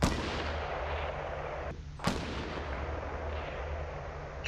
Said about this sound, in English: I think he's shooting there.